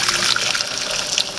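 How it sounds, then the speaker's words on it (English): Boiling water pours in a steady, hissing trickle into a bowl of flour batter being mixed for chicken paprikash dumplings, close and continuous for a moment with no talk. "Get some boiling water."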